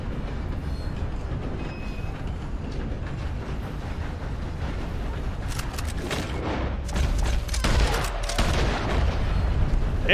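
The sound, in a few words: gunshots at birds, from a video game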